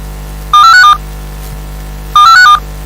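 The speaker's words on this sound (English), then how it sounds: "My phone, the phone is ringing." A phone rings during a live Hausa-language internet radio broadcast, two short bursts of a warbling electronic ringtone about a second and a half apart, loud and clear over a steady low hum with no talk.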